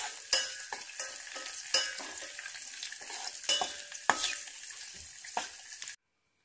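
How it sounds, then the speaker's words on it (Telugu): Bread pieces fry in hot oil for double ka meetha, a close continuous sizzle punctuated by sharp stirring clicks and scrapes, with no voices, ending abruptly. "మాడనివ్వద్దండి, దూరగా వేయించుకోవాలి"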